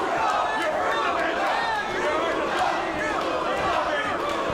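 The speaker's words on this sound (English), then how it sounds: "Partisan crowd support certainly for Minasyan." Partisan crowd cheering and shouting at an MMA bout in Southern California, a dense, constant roar of many voices with scattered yells throughout.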